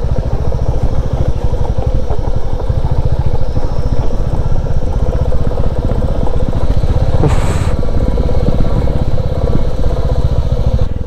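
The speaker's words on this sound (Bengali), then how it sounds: "একদম বাইকটা আস্তে আস্তে নিয়ে নামতে হবে" A motorcycle engine runs steadily in low gear, loud and close, as the bike eases down a rough, damaged mountain road on the Ghandruk to Jomsom route in Nepal, with continuous rumble and clatter throughout.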